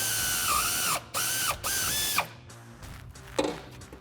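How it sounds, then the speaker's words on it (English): Air ratchet with a 15 mm deep socket working a Mustang's rear shock bolt: three loud whirring bursts with pitch dips as the bolt loosens, followed by quieter metallic clinks and handling noises nearby. "we are going to use a 15 mil deep socket on our air ratchet to get out the rear shock bolt"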